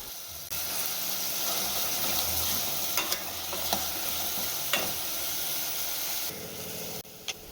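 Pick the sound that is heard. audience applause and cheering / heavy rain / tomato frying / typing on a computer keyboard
tomato frying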